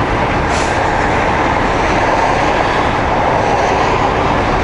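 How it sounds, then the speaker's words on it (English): An electric train rolls past near a highway in Alberta, a loud continuous rumble and rush of rail noise filling the whole stretch without any talk. "Electric train."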